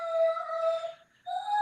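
A Doberman howls in two long, tonal, wavering cries separated by a brief pause. The sound is clear and fairly close, with no talking over it.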